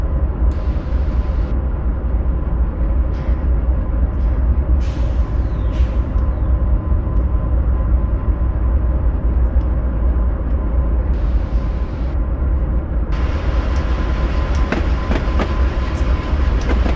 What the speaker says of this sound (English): We'll have a train coming through.